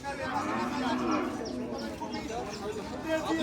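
A large cow lows at a busy cattle market ahead of Qurbani, a drawn-out moo rising above a crowd and people talking close by.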